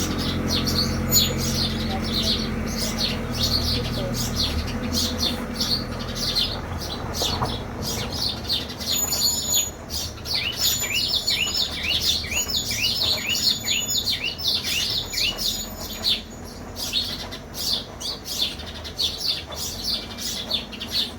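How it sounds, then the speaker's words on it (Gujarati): Sparrows chirping in a village in the morning, a busy overlapping chorus of quick bright tweets that grows denser after the first few seconds, fairly close and loud over a low steady background hum. "મસ્ત મસ્ત ચકલા બોલે છે"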